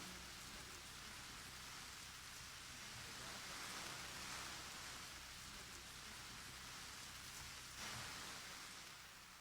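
Steady rain falls during a spring harvest on the Pacific coast, a dense, even hiss of drops hitting surfaces that holds level for the whole stretch, with a faint low rumble beneath and no voices.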